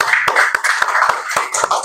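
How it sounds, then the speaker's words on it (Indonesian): A few people clap in a classroom for a student group, sparse and fairly regular hand claps roughly every quarter second over steady background noise, close and moderately loud. "kita beri tepuk tangan untuk kelompok 3"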